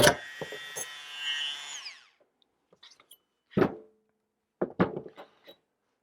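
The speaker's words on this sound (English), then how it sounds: "I don't know what I'm doing wrong with that Dremel" A Dremel rotary tool stripping paint from a Sega Frogger arcade cabinet, a high whining spin lasting about two seconds and then winding down, followed by scattered knocks and handling thumps in near silence.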